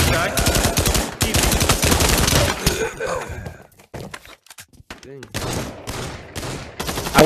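Pistol gunfire rattles in a video game firefight as rapid, dense shots crackle loudly in bursts. A quieter lull with scattered thuds follows, then the shooting picks up again, with some speech mixed in.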